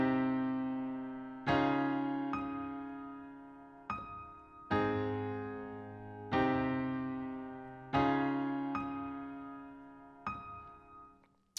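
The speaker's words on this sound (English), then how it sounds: "So really, all we're adding is these kind of bell tones in the upper register." Solo piano playing the first variation of a song, steady sustained chords struck in regular beats with bright bell-like tones ringing in the upper register, clear and close with no voices.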